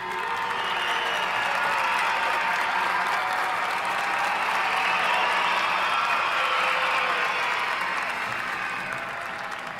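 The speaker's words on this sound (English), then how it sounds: "So I'm going to applaud them again." Sustained applause from a sizable crowd, steady and dense clapping throughout with a slight swell in the middle before easing a little at the end.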